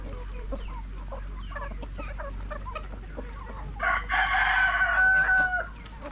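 Asil rooster crowing loudly for about two seconds amid a clucking chicken flock on a farm, with scattered hen clucks and calls before the crow.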